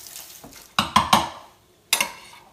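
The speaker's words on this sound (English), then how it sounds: "And just make sure it's stirred up real good." Pico de gallo mix stirred in a bowl: a few sharp scraping clinks of a utensil, three close together and one more after a pause, near and distinct with no talking.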